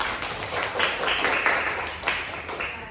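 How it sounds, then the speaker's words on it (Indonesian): Classroom students clap together in a dense, continuous patter that swells and eases, moderately loud and near. "Boleh kasih tepuk tangan ya dulu dong"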